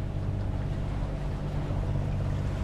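A sailboat motoring under engine into the wind off La Gomera: a steady, low engine drone mixed with wind and water rush, even and continuous throughout.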